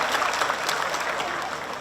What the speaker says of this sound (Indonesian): Kita beri tepuk tangan buat alumni dan juga sponsor.